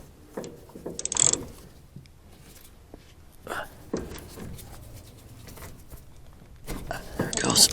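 A socket ratchet tightening the brake on a 1962 Chevy, with bursts of fast clicking at the start and end of the clip and softer mechanical clatter in between, heard close while someone talks.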